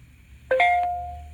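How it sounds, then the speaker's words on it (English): An iPhone phone call ringtone played through an LM386 audio amplifier circuit gives a brief chime of a few quick tones ringing out and fading over quiet background hum. "My phone call sound."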